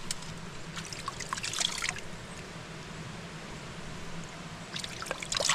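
Water from an underground spring trickles and splashes steadily in a forest, close and fairly quiet, with brief brighter spatters near the start and end.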